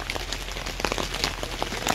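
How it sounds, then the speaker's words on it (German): Heavy rain falls on a festival campsite, pattering steadily with scattered sharper drops close by. The patter is moderately loud, with no voice heard. "es regnet wie aus Eimern"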